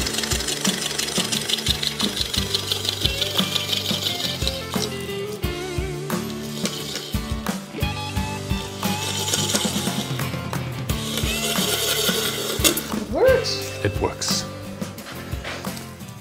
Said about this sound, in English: Now I will draw my jig towards me and the lathe of course has to spin in the other direction